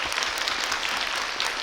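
A cinema audience at a guest visit screening of 5 Centimeters per Second applauds the director, a dense, steady wash of clapping from many hands filling the room.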